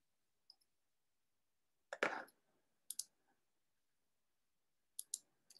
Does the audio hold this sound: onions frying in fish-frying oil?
no